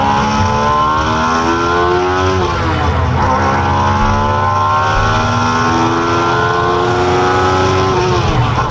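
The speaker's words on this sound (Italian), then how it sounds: "Questa è una BRZ che ha un 2004 V8, perché il tipo ha preso due motori 1200 della Kawasaki, fusi insieme e ha fatto un 2004 V8." Subaru BRZ running a homemade V8 built from two fused Kawasaki 1200 motorcycle engines, rated 11,000 rpm and 360 hp, revs with a loud, continuous high-pitched wail whose pitch climbs and dips in repeated sweeps, close and steady throughout.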